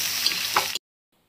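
Onions cooking down in a kadai give a brief, close hiss of frying that cuts off abruptly into silence after under a second.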